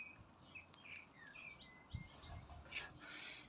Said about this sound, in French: Je vous laisse un petit peu écouter les oiseaux.